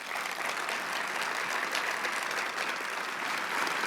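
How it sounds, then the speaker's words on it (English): An audience at a tribute event applauds in a continuous, even wash of clapping, moderately distant and steady throughout, with no talking over it. "So I think they all deserve a wonderful round of applause."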